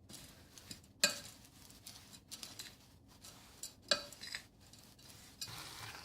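A spoon stirs a sticky dates mixture in a pan, producing faint, quiet scraping and soft rustling, with two sharper clinks against the pan around the one- and four-second marks.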